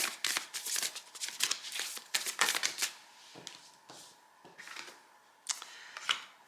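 Tarot cards being drawn and laid down during a French-language reading, with several quick papery snaps, slides and flicks in irregular bursts, close and moderately loud, with no talking.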